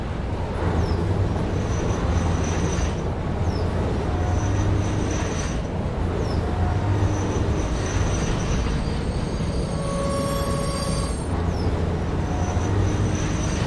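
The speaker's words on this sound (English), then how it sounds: "Maybe it's trying not to slam into the train station." A train rolls into a station in the video game Satisfactory, a steady loud rumble of wheels and carriages running throughout with faint high squeals and tonal hums drifting in and out, no voices.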